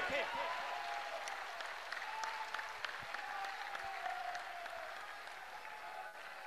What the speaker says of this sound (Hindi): जोर से एक बार इस युवा देशभक्त धर्म भक्त के लिए ताली बजाइए